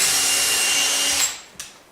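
A power driver whirs steadily for about a second driving a screw into wood while installing a book latch, then stops, followed by a brief knock.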